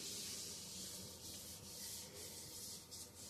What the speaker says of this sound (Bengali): আমি জাস্ট হালকা হাতে ঘষছি